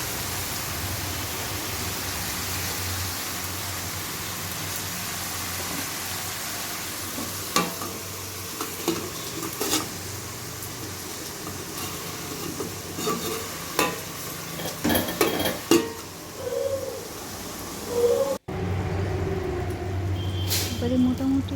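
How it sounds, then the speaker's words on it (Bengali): Ridge gourd and potato with salt and turmeric sautéing in a pan, a continuous close sizzle broken by repeated spatula scrapes and knocks, with someone speaking over it. "কাঁচা ঝিঙেটা দিয়ে নুন হলুদ দিয়ে ঝিঙে আলুটাকে ভালো করে ঢেকে ঢেকে"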